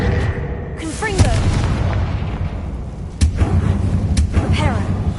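Confringo blasting spell cast in the Hogwarts Legacy video game, a sharp booming burst and then a second explosive crack with a rumbling tail, set over loud game effects with some talking.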